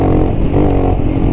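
Royal Enfield Himalayan with a 462cc big bore kit and cam revs briefly while riding, a loud, close, throaty engine burble lasting a moment.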